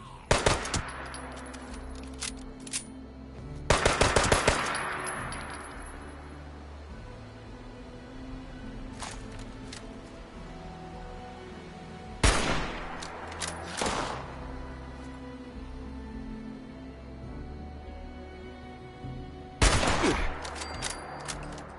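Bursts of automatic gunfire in the video game Fallout 76: sharp rapid volleys at the start and then in three more clusters, separated by quieter stretches of ambient game noise.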